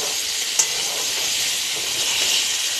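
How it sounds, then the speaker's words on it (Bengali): Small mola fish fry in a pan with oil, giving a steady, loud sizzling hiss throughout, with one sharp pop near the start and no voices. "এবার একটু ভালো করে এপাশ ওপাশ করে ভেজে আমি নামিয়ে নিচ্ছি।"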